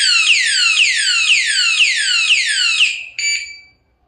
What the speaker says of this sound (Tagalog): a-alarm na siya ng malakas